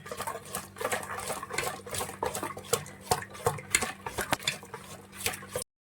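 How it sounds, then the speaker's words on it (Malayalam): Vattayappam batter is stirred by hand after yeast is added, producing a steady series of soft wet slaps and light scraping clicks against the bowl in an irregular rhythm, close up and without talk. "ഇനി നമുക്ക് എടുത്തു വെച്ചിരിക്കുന്ന ഈസ്റ്റ് ചേർക്കാം എന്നിട്ട് ഇത് നന്നായിട്ട് യോജിപ്പിക്കണം"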